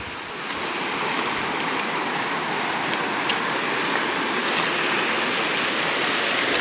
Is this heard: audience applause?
no